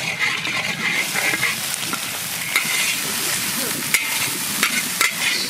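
Leafy greens (note shag) hit a hot pan in a village kitchen and sizzle steadily while being stirred, with the scraping of the spoon and a few sharp clicks over a continuous frying hiss, and no talking.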